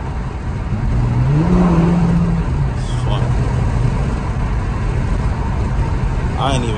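Interior of a car driving through New York City streets, a steady loud engine and road rumble with a passing horn-like tone, while someone talks throughout.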